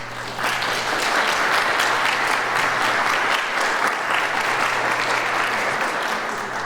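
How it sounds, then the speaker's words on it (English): An audience gives a sustained round of applause at a youth safety committee meeting, steady clapping that swells in and holds for several seconds before easing off. "these students are incredible and they need a round of applause"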